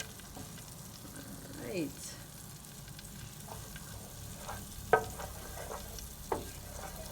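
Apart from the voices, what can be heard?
butter melting and sizzling in a pan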